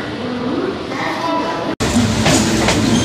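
A local train running from Howrah to Bardhaman, heard from inside as a loud steady rumble with rattling and clacking and a brief cut partway through, with people talking over it.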